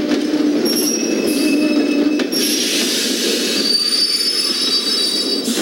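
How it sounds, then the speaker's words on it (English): Train pulling into a station, wheels squealing shrilly against the rails over a loud continuous rumble of the railcars, close and sustained with no talking. "The train will be arriving shortly."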